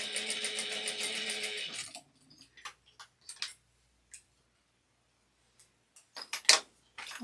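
A sewing machine runs a steady 1/8-inch topstitch on a small black-and-white wristlet for about two seconds, then stops, followed by faint scattered clicks and handling sounds.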